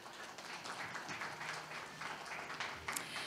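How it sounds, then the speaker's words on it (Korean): An audience at a Korean fintech panel discussion applauds as the panel chair is brought onto the stage, a faint, steady patter of clapping from a distance throughout. "여러분 큰 박수 부탁드립니다."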